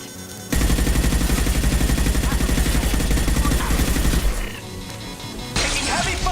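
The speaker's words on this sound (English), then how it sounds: "Taking heavy fire!" Sustained rapid gunfire from a firefight in Mass Effect Legendary Edition, a dense rattling burst lasting several seconds, then a brief lull and a fresh loud blast, close and aggressive.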